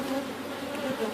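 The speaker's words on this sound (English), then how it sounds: "And this one right here, you can see all the bees." Honey bees drone steadily around a large multi-box backyard hive during an inspection, a close, continuous buzzing hum.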